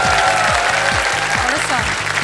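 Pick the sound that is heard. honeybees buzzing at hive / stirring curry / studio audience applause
studio audience applause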